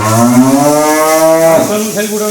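A large cow moos loudly and close by, one long drawn-out bellow that bends lower near the end, with no talking over it.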